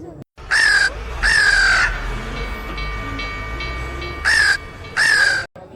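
Four loud, close crow caws in two pairs, each a harsh drawn-out call, over a steady low rumble like a train in the background.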